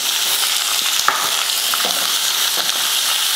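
Onions frying in oil in a pan, a loud close bright sizzle that holds steady throughout, with a few soft stirring knocks and scrapes, and no speech.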